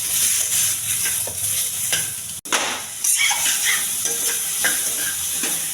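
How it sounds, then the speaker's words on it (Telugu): Cucumber pieces fry in a pan for a country-style cucumber chutney, with a steady close sizzle and stirring scrapes that continue throughout, one brief drop in the middle. "దోసకాయ బాగా వేగిపోయిందండి."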